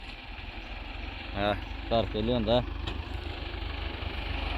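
Tractor engine idling steadily throughout, a low continuous rumble close by, with someone talking over it in the middle.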